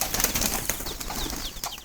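Jalali wild jungle pigeons kept as pets: brief, close bursts of flapping wings with faint bird calls, a short flurry of feathery whooshes over low background noise.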